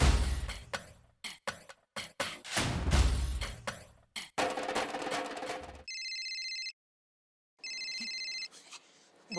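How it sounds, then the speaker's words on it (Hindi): A telephone rings with two electronic trill bursts separated by a pause, preceded by clattering thumps and bumps nearby. "नटू काका, बबीता जी का फोन है, जरा बात करो ना।"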